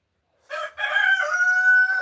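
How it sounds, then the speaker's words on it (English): A rooster crows once, loud and close, a stuttering start followed by a long drawn-out call with no other sounds around it. "We finally got to where there's only one rooster in the coop, but we still got two in here."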